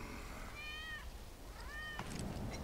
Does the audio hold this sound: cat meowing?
yes